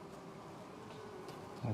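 Honey bees buzz in a steady close drone while a hive is treated for varroa mites after honey extraction, with a brief louder hum at the end.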